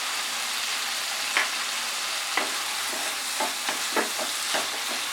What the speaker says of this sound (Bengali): জল দেওয়ার আগে আমি এর মধ্যে কাঁচা লঙ্কাটা অ্যাড করে দিচ্ছি।